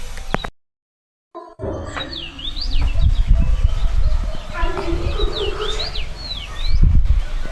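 Morning birdsong outdoors in the hills of Ordu: repeated bright chirps and whistles sound close, over rubbing handling noise and low rumble. The sound cuts out briefly near the start.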